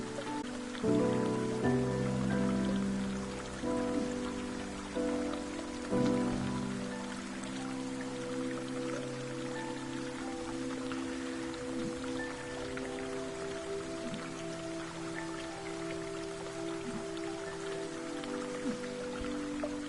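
Steady rushing water from a waterfall inside a cave in the game Hue, a continuous dense patter like rain on rock under a low tonal musical backdrop, even in loudness throughout.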